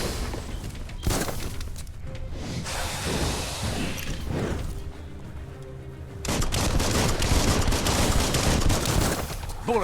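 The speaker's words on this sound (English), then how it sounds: "Bullets everywhere." Bursts of gunfire crackle through the Biomutant video game battle, dense rapid volleys with a louder stretch of shooting near the end, no talk.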